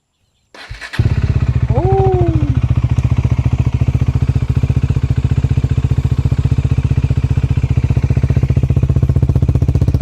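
A Bajaj Dominar 400 motorcycle just after an oil change fires up with a short cranking burst, then settles into a loud, steady, close-up idle that runs to the end, with a brief chirp early on.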